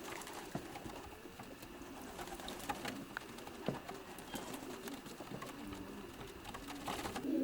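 Racing pigeons coo steadily inside a loft at the edge of a property in the French countryside, a soft continuous burble of several birds nearby with occasional wing flutters and faint chirps.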